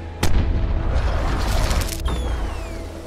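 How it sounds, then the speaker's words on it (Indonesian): Cannon fire in the animated Kung Fu Panda film, a sharp booming blast followed by a rumbling, crashing roll and a second thud, with no talk over it. "Tanpa pandang bulu, dia menembakkan meriam membuat Po dan kawan-kawan terpental ke sungai bersama serigala yang lain."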